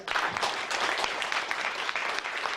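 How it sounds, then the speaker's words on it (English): A crowd applauds at a food bank benefit concert in a venue called The Refinery, producing a dense, even wash of clapping from many hands, moderately distant and sustained throughout. "Give them a round of applause."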